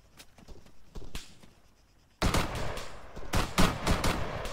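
Gunfire in the military shooter ARMA 3 comes first as scattered distant single shots, then erupts into a loud, rapid barrage of overlapping rifle and machine-gun bursts.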